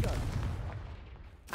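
A Confringo explosive spell going off in Hogwarts Legacy, a single short, booming blast with a low rumble that quickly fades.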